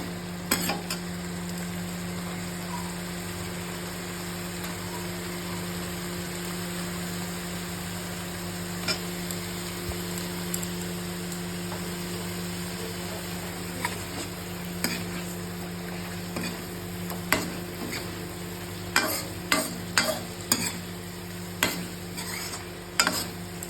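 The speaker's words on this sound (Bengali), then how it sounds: "ভালোভাবে মিশিয়ে নেব যাতে মশলাগুলো এর মধ্যে ভালোভাবে ঢোকে।" Spices being stirred and fried in a pan for bhetki fish, a steady low sizzle with a faint hum, then sharper scraping strokes of the spoon growing more frequent toward the end.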